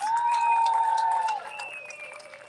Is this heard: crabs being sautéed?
no